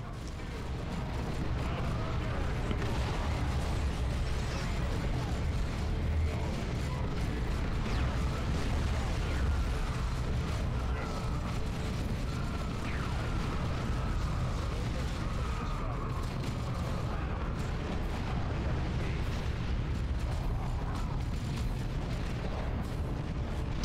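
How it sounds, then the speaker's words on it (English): Grenade blasts in the video game Dawn of War 2 on hard mode, a rumbling stream of explosions and battle clatter that rolls on for the full stretch, thick and continuous, with a voice talking now and then. "maybe I should toss some grenades around."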